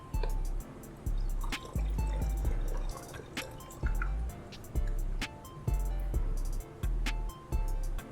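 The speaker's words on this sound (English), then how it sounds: "we're just gonna pour a little bit of water in the funnel to rinse some of that molasses down" Water poured into a funnel to rinse molasses down, heard as a series of wet splashing bursts with gurgling and dripping, repeating roughly every second with brief pauses between pours, close and fairly loud.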